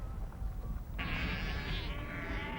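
Sheep bleat in a large shearing shed on the Falkland Islands, a wavering cry rising over a busy, noisy room tone, moderately distant.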